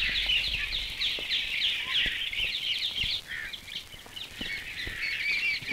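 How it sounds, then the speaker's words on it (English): Birds calling in the Bengali countryside among banana trees and bamboo, a continuous chorus of high chirps and chattering at moderate distance, with a few faint knocks underneath. "Birds were singing merrily."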